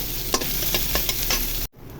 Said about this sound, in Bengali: পেঁয়াজ কুচি ভেজে নিব।